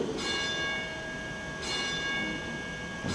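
Two clanging streetcar bell strikes, played as a sound effect on a theatre organ, ring out about a second and a half apart, each leaving a bright, sustained metallic tone.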